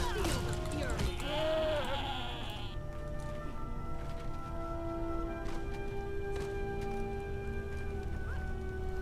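Sheep bleat in the Guild Wars 2 game world, a clear bleating call near the start over a steady wash of in-game ambience and music that continues after the call fades.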